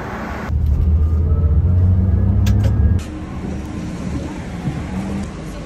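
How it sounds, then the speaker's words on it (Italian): A coach bus engine idles with a heavy low rumble. The rumble is loud for the first three seconds, then eases to a steadier, quieter hum, all before a night departure to Moscow. "Quello è il pullman con cui inizia il mio viaggio alla speranza."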